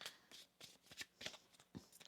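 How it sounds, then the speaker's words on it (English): Tarot cards are shuffled by hand in a run of quick riffling bursts, soft and close, with brief pauses between the flurries and no talk over them. "One more shuffle."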